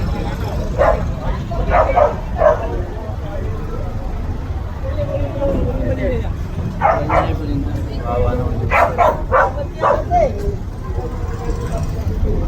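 A dog barks and yips several times in short bursts over steady outdoor noise and background chatter.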